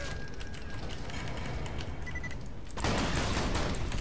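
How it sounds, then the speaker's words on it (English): A shotgun fires rapidly in the first-person shooter Borderlands: The Pre-Sequel, a fast stream of blasts under a dense layer of game noise that turns louder and harsher near the end. "God damn, yo, this shotgun fires fast as shit."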